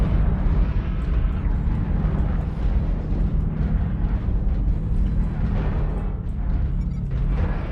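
An artillery strike lands in MechWarrior Online, a continuous rumbling barrage of deep explosions rolling on steadily without pause, loud and low-heavy, with no voices over it.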